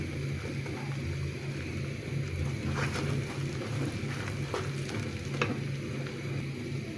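Raw mango pickle with mustard paste, salt and whole green chillies cooking in oil, a steady close sizzle with occasional stirring scrapes and faint crackles throughout.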